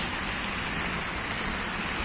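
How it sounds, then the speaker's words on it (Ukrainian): A December downpour in Rome: thick, unbroken hiss of heavy rain striking nearby surfaces, loud and even from start to finish, with no one speaking. "Дуже сильний у нас дощ."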